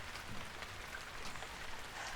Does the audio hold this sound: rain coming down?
yes